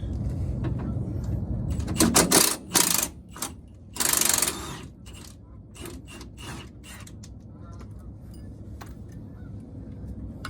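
Ratchet wrench working a bolt on the rear shock absorber of a 2008-2014 Ford F-150, giving bursts of metallic clicking and creaking, loudest in two short strong bouts early on, then lighter intermittent clicks close by.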